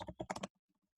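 Fast typing on a computer keyboard: a quick flurry of about a dozen close, crisp key clicks for half a second, then near silence with a few faint taps.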